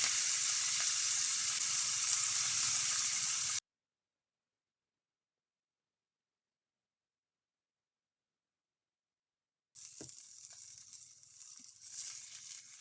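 A steak fries in a pan with no added fat, giving a loud, steady hiss and crackle that cuts out abruptly, then returns more quietly with a few soft clinks.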